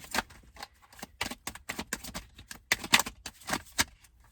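Tarot cards are shuffled by hand in quick irregular riffling bursts, close and fairly quiet, with short gaps between the flurries of card slaps.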